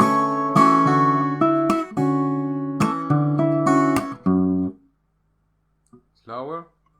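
An acoustic guitar plays bars 59 and 60 of a fingerstyle arrangement of a song from Naruto Shippuden, a bright run of plucked chords and notes for about five seconds, then silence and a brief spoken word.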